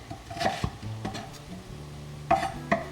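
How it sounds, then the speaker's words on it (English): A few sharp knife chops through a sweet onion against a cutting board, spaced irregularly, close and fairly loud with faint kitchen background noise. "Just chopping a sweet onion here."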